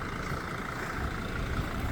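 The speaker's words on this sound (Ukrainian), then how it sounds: "заведений двигун" A Mercedes Sprinter passenger van with a 2.7 engine idles steadily and evenly, a close, continuous low rumble with no voices over it.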